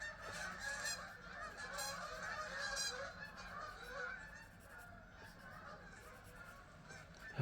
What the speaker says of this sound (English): You can hear a lot of seagulls outside.